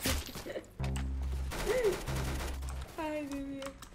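MP5 submachine gun fire from the Roblox shooter Arsenal, rapid bursts of shots that blur together with other in-game impacts and effects, loud and close.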